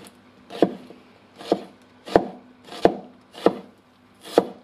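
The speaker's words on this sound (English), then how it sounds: "not having any difficulty in cutting up onions" Work Tuff Gear Lamigo knife, a thick-bladed sabre-ground edge, slicing through onions on a board: six evenly spaced crisp chops with short scraping tails, close and clear with no talking.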